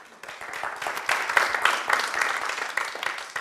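Audience applause for a volunteer standing up at a STEM education presentation, a dense wash of many hands clapping that swells after a quiet start and holds steady, fairly close, with no talk over it.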